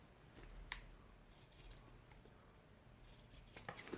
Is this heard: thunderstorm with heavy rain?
no